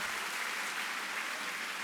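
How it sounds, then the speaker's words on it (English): An audience at a school district convocation claps steadily in a large hall, a dense, even wash of applause lasting a couple of seconds without talk. "Oh yeah, you better clap."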